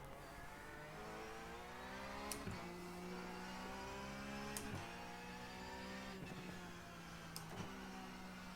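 A race car in the iRacing sim, its engine revving up through the gears in repeated rising sweeps with sharp shifts between them, steady and fairly faint.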